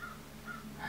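A crow caws outside, three short hoarse calls at an even pace, fairly faint and heard alone.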